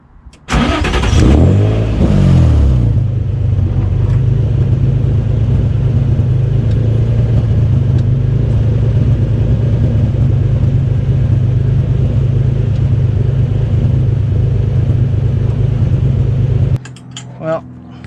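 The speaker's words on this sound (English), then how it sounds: "Let's see if it starts and revs up." A Nissan S13 drift truck engine cranks, catches and settles into a loud, close, rumbling idle with some revving, then cuts off near the end.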